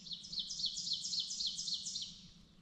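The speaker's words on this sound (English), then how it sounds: "it seems like the birds we're hearing right now is an oven bird" Woodland birdsong where ovenbirds, a red-bellied woodpecker, a wood thrush and a red-eyed vireo sing near Montebello, Virginia: a clear repeated series of bright chirping phrases that builds steadily over about two seconds, close and distinct over a quiet background.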